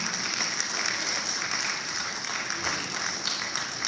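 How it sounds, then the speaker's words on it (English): An audience at an academic recognition and scholarship ceremony applauds parents, a steady moderately loud round of clapping from many hands lasting several seconds. "give them just a huge round of applause"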